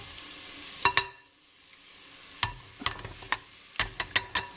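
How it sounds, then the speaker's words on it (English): Garlic dropped into a pan with oil and onions already fried golden, giving a few sharp clattering stirs and scrapes over a faint sizzle, with short quiet gaps between bursts. "And I'm going to add the garlic now."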